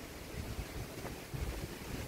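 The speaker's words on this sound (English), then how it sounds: "But this wind is crazy." Strong wind near a severe thunderstorm in southeastern Pennsylvania roars and buffets steadily, with rumbling gusts battering the microphone throughout.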